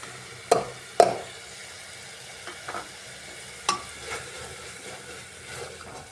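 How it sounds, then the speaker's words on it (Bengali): Cumin powder and chana masala are stirred into tomato in a pan for soybean and rajma ghugni, with a soft steady sizzle under a few sharp utensil scrapes and taps. "এবার সব মশলা দিয়ে ভালো করে কষিয়ে নিচ্ছি"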